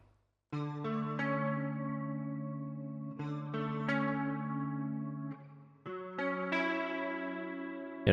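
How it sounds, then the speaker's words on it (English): Reverb effect applied to a recorded synth track, sustained chords ringing with a spacious, lingering tail and chorus-like shimmer, changing in steps, quiet with no talking. "and then some reverb."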